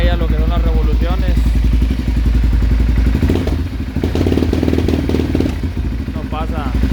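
A Bombardier DS650 ATV with a weak battery fails to start, giving a loud, close clattering and mechanical churning with repeated clicks, one continuous stretch with no voice over it.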